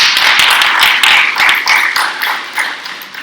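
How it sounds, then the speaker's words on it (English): Audience applause for an academic Beatles panel at a Chicago fan festival: a sustained, bright round of many hands clapping that fills the room, then gradually thins and tapers toward the end. "how about, first of all, an opening round of applause for the distinguished panel that we have before us."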